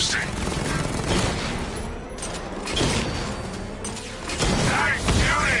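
Gunfire in the video game Batman Arkham Knight, a dense, steady fusillade of shots with booming impacts running throughout, loud and continuous with a voice speaking over it.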